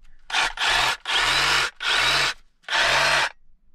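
A new brushless Milwaukee Sawzall with a Diablo 9-inch pruning blade cuts through crepe myrtle limbs outdoors in four loud, close bursts of reciprocating sawing, with short pauses between them.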